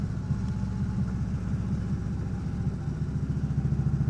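Motorcycle engine running steadily during a ride out, a constant low rumbling drone with a throbbing pulse, close and fairly loud throughout with no talking.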